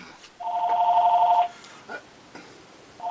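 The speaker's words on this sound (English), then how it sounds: "Hold on, I got a phone call." A telephone rings once with a clear double-toned electronic trill lasting about a second, followed by quiet room noise and a short start of another ring at the end.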